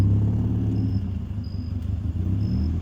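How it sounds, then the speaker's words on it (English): A 1990 Mazda Miata driving on a freshly replaced fuel pump, its engine a loud steady low rumble heard from close inside, with a faint repeating high chirp over it. "I'm gonna try to drive it around"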